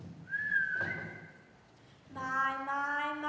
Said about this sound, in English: Stand here and whistle.